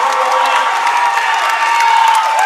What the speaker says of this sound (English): The crowd is erupting